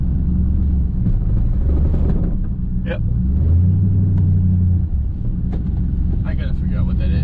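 A 4th-generation truck engine runs with a heavy, continuous low rumble that swells slightly at times. It sounds close and loud, and a person says a single brief word over it.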